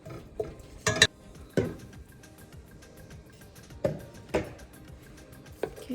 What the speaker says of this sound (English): There we go. Just saute that a bit. Oh, just stir.